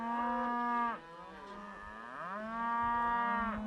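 A cow on a farm moos twice in long, loud, tonal calls, the first dipping away near the middle before a second rises and holds, close by with no talk over it.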